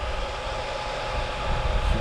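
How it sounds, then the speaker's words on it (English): Steady broadband whirring hiss from an EcoFlow RIVER Max power station charger running, a continuous fan-like drone with slight fluctuations and no speech. "Now all the noise you can hear is that charger."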